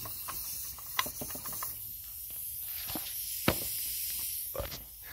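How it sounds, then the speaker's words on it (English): A steady faint hiss of air leaking from an air compressor regulator runs throughout, with a few sharp clicks and taps breaking through. "If you can hear it leaking or not."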